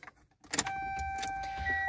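A 2002 Toyota RAV4 EV is switched on with a turn of the key, giving a short click followed by steady electronic tones and a low hum as the electric system powers up, close and clear.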